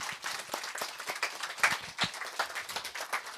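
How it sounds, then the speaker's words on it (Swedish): An audience at a book evening applauds two guest authors with uneven, close clapping, distinct individual claps and bursts rising and falling over a few seconds. "Så därför tycker jag vi ger Jonas och Arne en applåd och välkommen."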